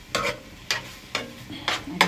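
Egg sauce frying in groundnut oil in a pan, with five sharp scraping stirs at a steady pace over a faint sizzle; close and alone, with no talking.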